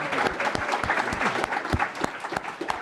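Audience applause at a startup pitch competition, a steady wash of dense clapping from a crowd with sharp individual claps standing out, continuous and fairly loud.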